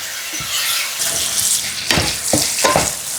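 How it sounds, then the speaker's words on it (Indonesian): Aromatics sautéing in a pan until fragrant, a steady close frying hiss with a few scraping stirs of a spatula toward the end, no voices. "Tumis sampai harum."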